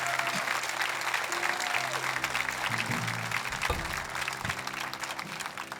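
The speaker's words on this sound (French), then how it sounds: "Et voulez-vous applaudir ce qu'il a fait dans votre vie?" Applause from a church congregation, a steady wash of clapping that fills the space and carries on for the whole stretch, with faint voices mixed in beneath it.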